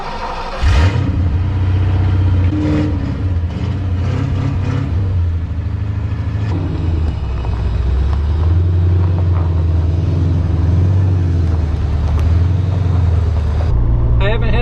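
A vehicle engine, not run for months, idles and warms up with a loud, close, steady low rumble, a brief rev near the start, and occasional speech over it.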